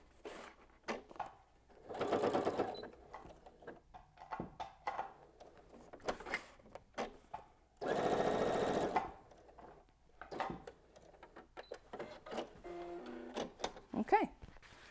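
A sewing machine stitches a Kraft-tex wallet in two loud buzzing bursts, one short and one longer, separated by quieter handling clicks and rustles.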